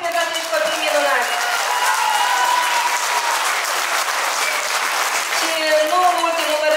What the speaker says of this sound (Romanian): aplauze pentru acești copii minunați